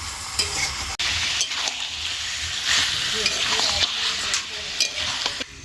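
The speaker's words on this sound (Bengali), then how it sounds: "পেঁয়াজ আদা রসুনের সাথে খুব ভালো করে মাংসটাকে কষিয়ে নেব" Marinated chicken sautéing with onion, ginger and garlic in a pan for palak chicken, a loud close sizzle broken by repeated scraping stirs of a spatula, with no speech.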